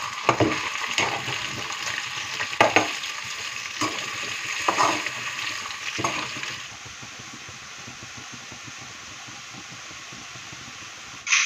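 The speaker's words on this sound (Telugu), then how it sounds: "ఇంకా పొటాటో ముక్కలు అయితే ఫ్రై అవుతున్నాయి" Potato pieces fry in a pan on a home stove. A steady sizzle runs throughout, broken by several sharp clatters of stirring early on, then settles into a quieter, even hiss.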